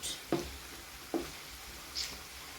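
Sausages frying in a pan give a faint, steady sizzle, broken by three soft pops or spatters spaced under a second apart, with no voices.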